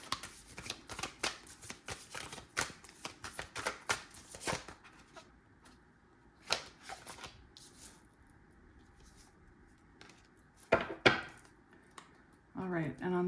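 Tarot cards are shuffled and riffled by hand in repeated papery bursts of flicking and rubbing, close and fairly quiet, with a brief pause midway and a soft thump and clatter at the end.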